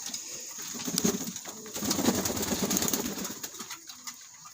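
Caged breeding pigeons bathe and shake out their wings up close, giving a dense, continuous wash of splashing and fluttering bursts with soft cooing mixed in and no talk.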